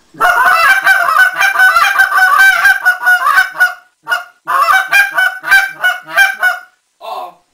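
Loud, rapid honking goose calls in quick bursts, made with a caller to imitate geese during a late-season goose hunt, repeated in two runs with a brief pause.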